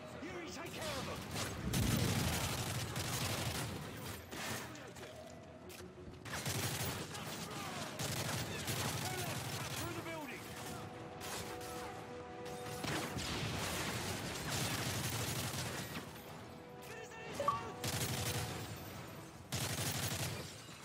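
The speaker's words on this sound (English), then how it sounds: "I'm shooting at him!" Modern Warfare 3 gameplay gunfire, repeated bursts of shots and loud impacts spread through the scene with intermittent game dialogue between volleys.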